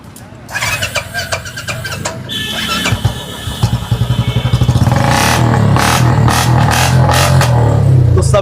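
A Royal Enfield Bullet motorcycle engine with about 17,000 km on it cranks, sputters and catches, then settles into a loud, thumping idle with a rapid steady beat while people talk nearby.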